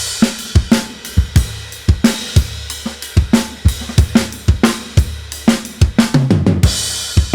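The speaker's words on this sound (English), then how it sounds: "I'm using here an emulation of a classic tube compressor, the Fairchild 670. And this is how it sounds." A drum kit mixed with parallel compression through a Fairchild 670 tube compressor emulation, punchy kick and snare hits in a steady groove with dense, sustained cymbal wash, loud and upfront.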